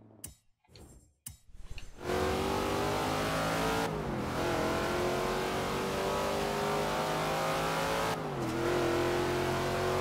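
A Dodge Charger Daytona in Forza Horizon 3 sits at a loud, steady engine drone after a couple of short blips, with two brief dips where the revs shift before climbing back, no talk over it.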